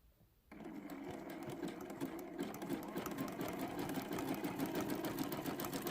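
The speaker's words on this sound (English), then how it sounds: "I'll bring you in a little bit closer so you can see my satin stitch a little bit better." After a quiet start, a sewing machine runs a satin stitch in brown thread around a fused appliqué handle on a quilt block, giving a steady, close, fast whirring hum that keeps going without pause.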